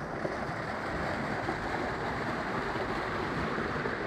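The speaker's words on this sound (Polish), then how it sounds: "Założono tu wielki strumień z wodospadami, z kaskadami" Large artificial stream with waterfalls and cascades inside a palm house, heard as a steady, even rushing of falling water filling the space at moderate level, with no voices.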